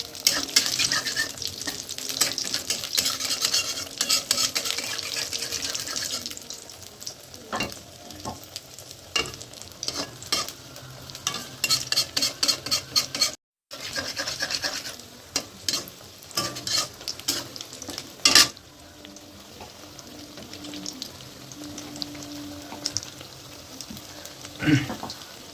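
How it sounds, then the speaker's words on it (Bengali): Tomato paratha fries in a pan of oil, Mughlai style, with a strong steady sizzle at first, then intermittent stirring clatter and utensil knocks over a quieter hiss. "তার মধ্যে পাওয়াটাকে একটু করে তেলের মধ্যে দিয়ে দেবে। মোগলাইয়ের মতন করে ভাজবে।"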